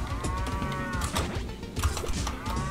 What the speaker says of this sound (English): I swear I hate the cows.